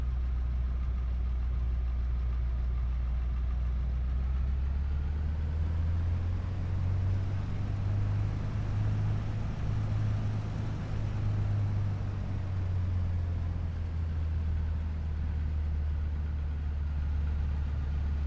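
A Cessna 172 Classic engine idles in the flight simulator with barely any throttle, a continuous low droning rumble that holds level for the whole stretch with no talking.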